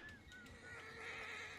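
Horse in the video game Red Dead Online neighing, a faint high whinny with short trailing calls, set against a low background and soft hoof sounds.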